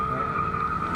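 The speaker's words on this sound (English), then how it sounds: "to smoke up its back tyres" A car at the Goodwood event spins up its rear tyres in a continuous, steady squeal over engine roar, loud and close throughout.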